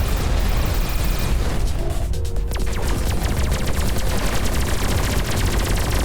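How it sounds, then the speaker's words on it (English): Missiles launching and exploding in the space combat game Everspace 2, a dense loud barrage of rapid blasts and booms that runs continuously throughout. "Missiles were deployed."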